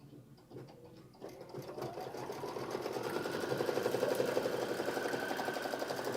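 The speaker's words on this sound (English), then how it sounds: "Now it's a placement stitch for my last one." Sewing machine stitching a placement line on a leafy appliqué quilt, starting quietly, then its motor spinning up into a fast, steady needle rattle that grows louder and holds.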